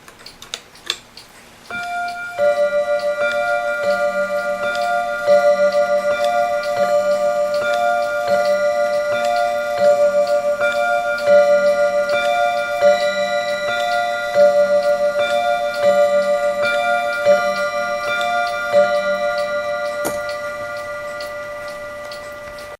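A New England Clock Co No NE214 8-day clock ticks in a steady, even rhythm, close and clear, over a sustained ringing tone after a struck chime, with a single sharp click near the end.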